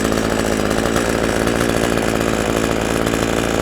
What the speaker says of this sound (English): Again with the pole saw.